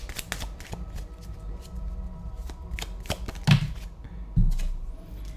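Tarot cards being shuffled by hand, a run of crisp riffling flicks and soft taps with a couple of louder bursts near the end, close and fairly quiet.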